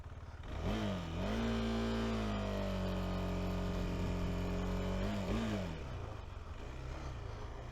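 A KTM 390 Adventure motorcycle engine revs up, holds a steady droning pitch while riding off-road, dips and rises again, then settles back to a lower idle-like hum; loud and close with no talk.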